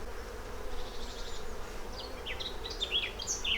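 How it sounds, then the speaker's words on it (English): Honey bees in an open hive during a colony inspection, a steady dense buzz of many bees close by with higher whining wingbeats rising over the drone, no talking. "Getting lots of bees in here now."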